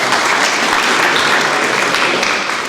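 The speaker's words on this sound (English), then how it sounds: "one more round of applause" An audience at a talk on a culture of continuous improvement gives a loud round of applause, the dense clapping sustained close and strong before easing slightly at the end.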